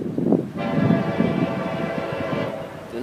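An FEC freight train passes a level crossing, its horn sounding in a long sustained blast over the rumble and clatter of rolling cars, fairly close.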